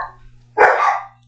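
Indoor dogs letting out one loud bark burst, preceded by a faint yelp over a steady low hum.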